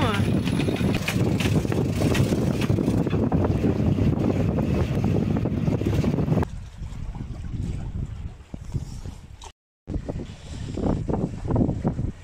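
Strong wind buffets the microphone with a steady roar over rushing water while sailing head to wind, easing partway through and briefly cutting out before gusting again; voices murmur beneath.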